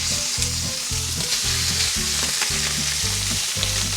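Steaks searing in butter in a hot frying pan, a loud continuous sizzle with rhythmic low crackling pulses throughout, close and steady with no voices.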